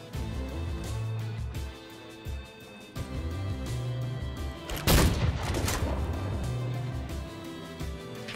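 Rapid bursts of video game gunfire from Full Metal Furies rattle in clustered volleys over game music, with one loud blast near the middle and little talk.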